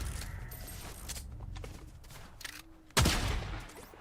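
Gunfire in Fortnite starts as scattered, softer shots and ends in one sharp, loud burst near the close.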